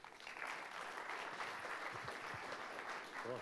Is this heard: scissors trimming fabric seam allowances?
no